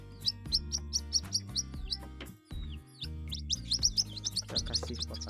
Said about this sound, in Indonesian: Ini dia burung ruak-ruaknya.